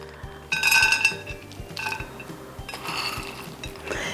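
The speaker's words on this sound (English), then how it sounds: "And our chickpeas, I'm going to just put a couple of handfuls into the salad." Handfuls of chickpeas tumble into a salad bowl of cucumber and tomato, making bursts of rattling, clinking patter against the bowl, close and fairly loud, with short pauses between pours.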